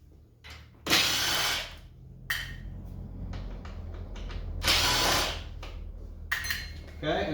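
Power tool work on a Corvette C8 dashboard, backing out two 7 mm bolts: two loud bursts of whirring driver noise, each about a second long, with lighter clicks and handling sounds between them.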